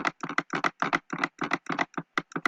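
Rapid computer mouse clicking while playing a video game, a dense run of about two dozen crisp, close clicks in quick irregular bursts with no talking.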